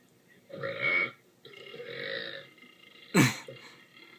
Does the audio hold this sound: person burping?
yes